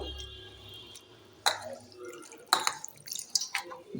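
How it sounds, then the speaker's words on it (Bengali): Washed cabbage is lifted from water into a colander, giving a few sharp splashy drips and wet spatters over a quiet, low hum, close by. "জল থেকে আমি তুলে দিচ্ছি ফুটো ফুটো জায়গাতে রাখছি জলটা যেন ঝরে যায়"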